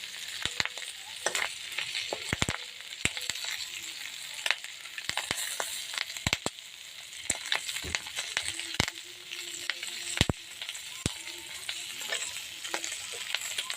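Fish frying in hot oil, a busy crackling sizzle with frequent sharp pops and spatters at irregular intervals, close and moderately loud throughout.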